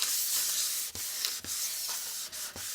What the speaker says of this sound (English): we're going to go to the inside of the card and then we're just going to rub